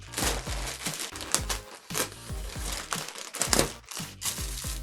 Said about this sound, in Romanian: Hai să le desfacem undeva pe aici, să nu tăiem ceva